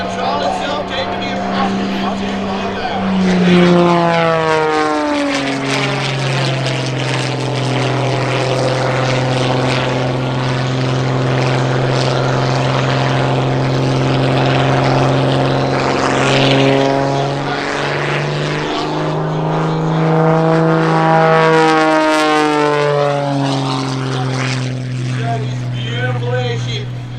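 A Pitts biplane performs an aerobatic pass at the EAA AirVenture Oshkosh airshow, its propeller engine droning loudly with a sweeping pitch as it approaches and passes, while an announcer talks over the sound.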